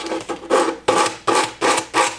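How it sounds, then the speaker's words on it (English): Rhythmic rasping strokes of 100 grit sandpaper worked along wooden edges during a laundry room makeover, loud and close, about six back-and-forth passes in a steady scraping cadence with no voices. "for this right now I got a 100 grit sandpaper right now. And now I'm just going to get the edges"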